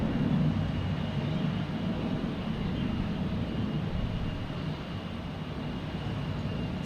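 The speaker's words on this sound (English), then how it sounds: "Scandinavian Airlines SAS coming in from Copenhagen. A330-300." Scandinavian Airlines Airbus A330-300 arriving at Boston Logan from Copenhagen, a steady wide jet-engine rumble that eases slightly over several seconds, heard from a distance without talk.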